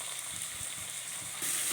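Chopped onion and green chillies with curry leaves sauté in hot oil, giving a steady, close sizzle with soft stirring scrapes that grows louder near the end.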